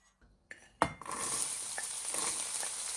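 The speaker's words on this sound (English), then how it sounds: "stir fry our vegetables" Vegetables stir-fry in oil in a pan, with a couple of sharp clatters as they go in, then a steady close sizzle broken by light scraping and stirring.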